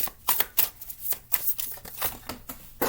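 Tarot cards from the Muse Tarot deck being shuffled and laid out, a string of crisp riffling flicks and soft slaps coming in quick irregular bursts, close by with no talking.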